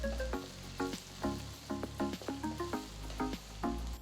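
Chopped garlic and finely chopped onion sautéing in hot oil for corn fried rice, a steady close sizzle broken by repeated soft stirring scrapes in an uneven rhythm.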